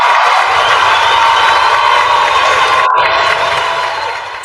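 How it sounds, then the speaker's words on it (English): Crowd cheering and applause, a loud dense roar of clapping and shouts that holds steady, briefly cuts out, then fades toward the end. "give you some hand claps for that"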